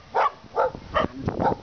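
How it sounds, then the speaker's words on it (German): A dog barks four times in a quick, even rhythm, close by and fairly loud, with short pauses between the barks and no talk over them. "Nicht bellen."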